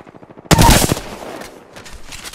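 Burst of video game gunfire from a battle royale match, a loud sudden volley of rapid shots that starts abruptly and then trails off into a decaying rumble, with no talk over it.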